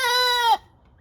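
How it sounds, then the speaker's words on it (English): A young rooster crows in the morning inside a chicken coop: one loud, close, sustained call lasting about half a second that breaks off sharply, followed by quiet. "Here he is doing what all roosters do in the morning in his chicken coop."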